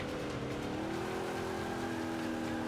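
Vintage Ford Mustang engine in the Forza Motorsport 5 racing game, a steady, loud droning hum held at fairly constant revs for the whole stretch, with no talk over it.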